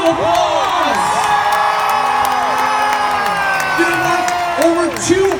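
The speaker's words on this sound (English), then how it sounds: "Give yourselves a round of applause." A large youth audience at a charity event cheers and whoops loudly and continuously, with shouts and applause blending into a dense, sustained roar of crowd noise.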